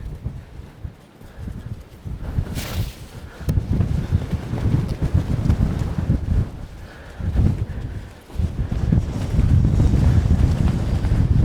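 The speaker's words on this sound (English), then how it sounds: "And we're right in the wind." Strong coastal wind buffets the camera microphone near the Tower of Hercules in A Coruña, Spain, a loud continuous low rumble with gusts that swell and ease, briefly dropping off around eight seconds before roaring up again.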